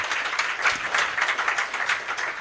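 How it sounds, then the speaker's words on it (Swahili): Audience applause at a church foundation event feeding the elderly, steady rippling clapping from a crowd as people return to their seats, continuous and moderately loud. "Wapigeni makofi wanapoenda kuketi chini."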